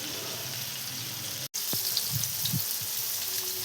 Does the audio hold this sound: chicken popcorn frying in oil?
yes